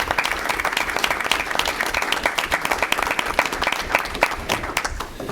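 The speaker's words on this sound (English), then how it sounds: "So we can give her a nice round of applause." Audience applause for a retiring village hall staff member, dense steady clapping throughout a hall crowd.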